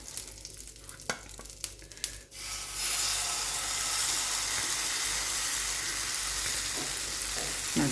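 Batter hits a hot pan of tempered mustard seeds and curry leaves, starting a loud, steady sizzle that follows a few light clinks and scrapes and then holds for several seconds.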